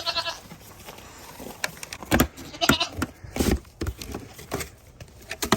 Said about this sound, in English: You're a ginormous goat, you know it?